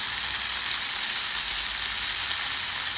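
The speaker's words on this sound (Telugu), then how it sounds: "ఈ పొటాటోస్ అన్నిటిని కట్ చేసుకొని వాష్ చేసుకొని ఇందులో అయితే వేసేస్తున్నాను" Cut, washed potatoes sizzle steadily in a pan of hot oil over medium-low flame, a dense, continuous frying hiss close up with no talking.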